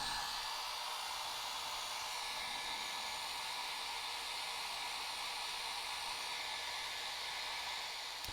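Hair dryer running steadily and close, a constant loud whoosh of blown air drying walnut ink watercolor painted over stamped images, with no pauses and no talking.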